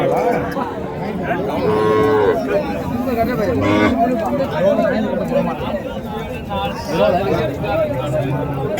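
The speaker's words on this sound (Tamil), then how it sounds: "ஸோ இங்கே ஒரு ஜோடிங்க நாட்டு காளைங்க." A pair of native bulls at a busy cattle market, with cattle mooing loudly and repeatedly at close range over steady crowd chatter and people talking nearby.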